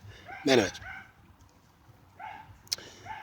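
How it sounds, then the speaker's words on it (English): A neighbour's dog barks in the background, two short, fairly distant barks about two seconds apart, with someone speaking briefly near the end. "I apologize for the dog bark in the background."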